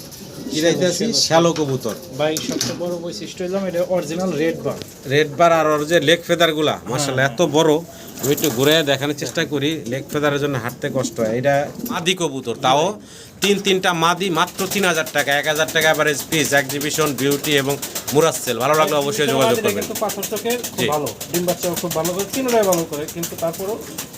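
A pair of Mundian pigeons, one grizzle-coloured, cooing in repeated throaty phrases, close by and fairly loud, with a voice talking over much of it.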